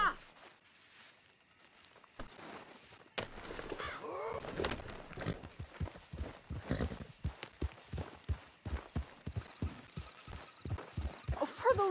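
Horse hooves clip-clop in a steady walking rhythm in the video game Red Dead Redemption 2, growing louder and more regular after a soft opening with faint background sounds.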